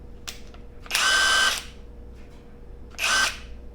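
Dong Cheng 1/2-inch cordless impact wrench in bolt removal mode: two loud whirring bursts, the first about half a second and the second shorter, close by, separated by a quieter background hum.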